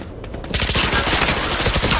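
Rapid automatic gunfire in Valorant bursts in after a half-second lull, a dense, loud stream of shots with no spoken words.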